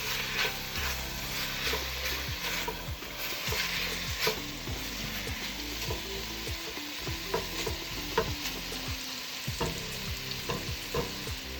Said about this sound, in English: I'm gonna just continue to saute this